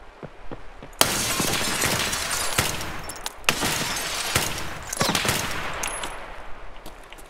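Gunfire in the video game Escape From Tarkov: a loud, close burst of rapid shots with sharp cracks and debris-like clatter, repeating in dense volleys over several seconds with no talking.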